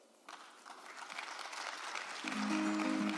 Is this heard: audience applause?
yes